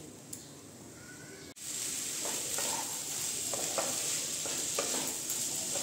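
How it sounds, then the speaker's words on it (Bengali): Spices for masala khichdi sizzle steadily in a hot pan, with intermittent scraping stirs over a continuous frying hiss; brief quiet moment early, then sustained close sizzling without talk. "আমি এখন ভালো করে কষিয়ে নিচ্ছি।"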